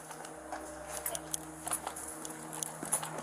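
A horse walks near a police traffic stop, its hooves clip-clopping faintly in an irregular pattern over a low background hum.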